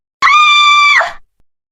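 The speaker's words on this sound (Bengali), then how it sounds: "সে চিৎকার করে উঠল" A single loud, close, sustained scream of about one second with a sharp onset that trails off at the end, used as a ghost-story sound effect.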